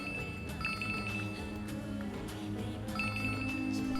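A telephone rings unanswered in a dubbed South Indian police film scene, two short bursts of electronic ringing a few seconds apart over a steady background hum.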